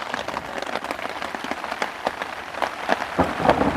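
Heavy rain pours outdoors in a dense, steady patter on surfaces, with occasional sharper drops standing out. It is moderately loud and continuous, with no voices.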